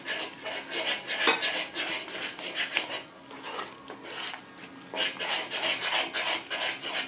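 Ghee Mysore pak mixture being stirred in a pan, a steady scraping and rasping of a utensil against the pan bottom, close and continuous with brief pauses, no voices.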